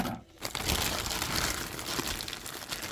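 A vacuum-packed plastic parcel of wool is cut open with scissors, close crinkling and crunching plastic with snipping and rustling after a brief pause at the start.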